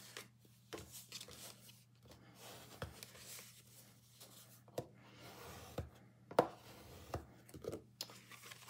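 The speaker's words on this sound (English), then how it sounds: "Now we just have to fold our score lines. I have my bone folder here." A bone folder creases holiday card stock along score lines, producing soft rubbing strokes and sharp paper snaps and taps at irregular intervals, close and fairly quiet.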